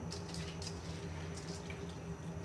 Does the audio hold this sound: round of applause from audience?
no